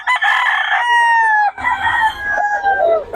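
Roosters crow in long, drawn-out calls, one after another, mixed with clucking from chickens at a poultry market, loud and close.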